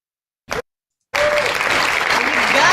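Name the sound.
applause sound effect played from a button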